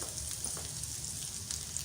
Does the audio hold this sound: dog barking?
no